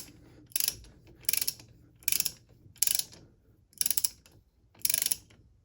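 A Tekton torque wrench ratchets in six short, evenly spaced bursts of clicks while tightening bolts on a new head gasket, close and clear with no talking.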